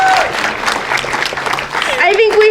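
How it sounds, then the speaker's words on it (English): An audience applauds at an Alzheimer's walk ceremony, giving a brief burst of clapping mixed with voices and cheers from the crowd. "So let's give these folks a round of applause"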